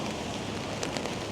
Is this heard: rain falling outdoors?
yes